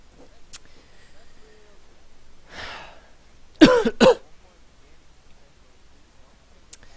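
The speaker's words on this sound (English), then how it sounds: "Sorry, got a cough." A soft breath, then a sharp double cough close to the mic, with faint clicks before and after in an otherwise quiet room.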